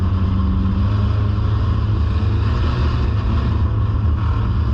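Race cars roar around the track at the Big O on a night of racing, a dense, loud, continuous engine drone from several cars without pause.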